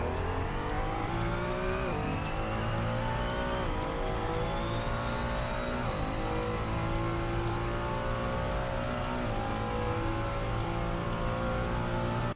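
A Ferrari 296 GT3 engine in Assetto Corsa screams continuously at the Red Bull Ring, climbing through the revs with brief dips at each gear change, loud and steady with no talking.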